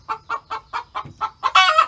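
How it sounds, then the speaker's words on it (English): Hens clucking the egg song while hunting for empty nest boxes, a loud close run of rhythmic clucks that builds into a longer squawking call at the end. "I got hens looking for empty nest boxes. They're doing the old egg song."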